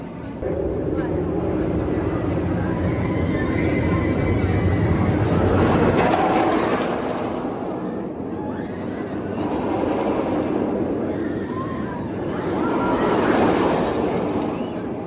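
Bizarro roller coaster at Six Flags Great Adventure, ridden in the front row: a loud, continuous rushing roar of wind and rumbling track that swells and eases over the run, with no talk.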